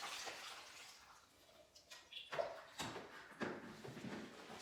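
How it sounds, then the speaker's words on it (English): Water from a half-liter measure poured into a 5-gallon pail of mud, heard as a few close, uneven splashes and gurgles over a soft background hiss, with no talking. "500 milliliters of water in bucket."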